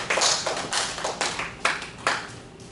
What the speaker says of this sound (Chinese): 掌声鼓励一下啊！